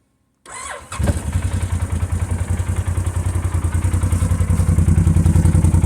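An Arctic Cat 1000 4x4 quad's engine cranks briefly, then catches and settles into a loud, steady, throbbing idle with a rapid even pulse, close by and with no talking.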